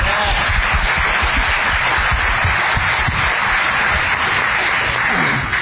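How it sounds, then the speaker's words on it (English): At a housing showcase event, the audience gives a steady, continuous round of applause, a dense wash of clapping that holds at even volume throughout. "If we can give him a round of applause."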